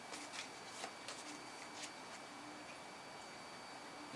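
Oracle cards are shuffled and pulled by hand, giving soft papery riffles and flicks that are faint beneath a steady background hiss, with no speech.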